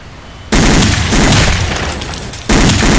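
Loud gunfire bursts in the video game Counter-Strike: Condition Zero Deleted Scenes, a dense blast starting half a second in, easing, then a second heavy burst near the end, with no talking.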